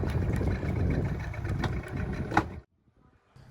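Outboard motor on a small dinghy running steadily on a ride out from an anchorage, a continuous close engine drone with water noise that cuts off abruptly near the end, leaving near silence.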